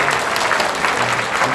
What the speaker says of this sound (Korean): 한번 여러분들 위해서 한번 큰 격려의 박수 한번 해주세요.